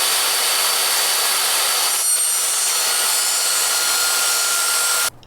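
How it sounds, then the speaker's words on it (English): A saw rips plywood to size with a loud, continuous hissing buzz that holds steady for about five seconds and then cuts off abruptly at the end of the cut, close up with no voices. "The next thing I have to do is to rip this plywood slightly because it is bigger than the perspex"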